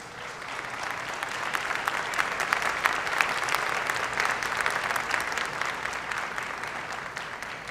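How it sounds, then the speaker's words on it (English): A crowd at a community college event with President Biden applauds continuously, a dense, even clapping that holds steady and stays moderately distant. "go ahead and applaud yourself right now."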